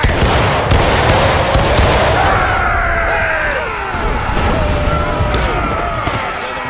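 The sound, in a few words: musket volley firing in War of Rights video game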